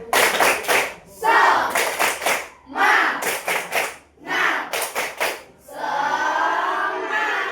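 Sixth-grade pupils at a primary school perform a rhythmic spirit clap together in the classroom, several bursts of patterned group clapping separated by short pauses, with shouted voices among them, ending in a longer sustained clap.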